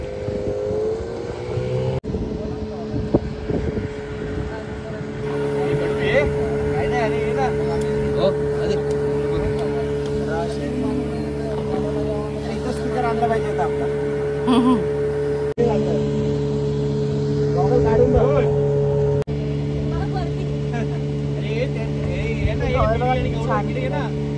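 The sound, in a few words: motorboat engine while travelling on Karli creek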